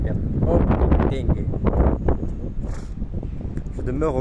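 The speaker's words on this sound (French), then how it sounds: "Oula, du vent de ouf. Désolé les enfants pour le vent." Strong outdoor wind in Paris buffets the microphone with heavy rumbling gusts, loud and close, while someone talks over it.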